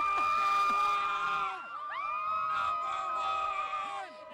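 Denham Springs Yellow Jackets band members cheer at a high school football game, a loud, close crowd of young voices shrieking and whooping together, with a brief dip before a second burst of yelling.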